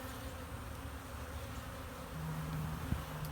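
Honeybees crawl into the hexagonal cells of a hive frame, making a steady, close, droning buzz that swells slightly toward the end.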